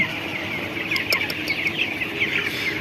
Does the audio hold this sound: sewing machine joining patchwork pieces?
no